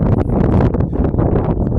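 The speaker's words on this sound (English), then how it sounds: "it's pretty windy out" Loud, blustery wind buffeting the microphone beside a pond, a constant low rumble with gusty swells throughout.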